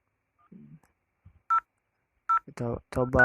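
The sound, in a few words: telephone dialing tones placing a VoIP call between routers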